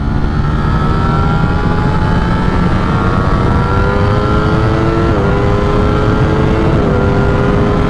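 Ducati Streetfighter V4 motorcycle in race mode accelerating hard on a highway from second gear at 60 mph, its engine a loud, steady, rising roar that climbs through gear changes over wind noise.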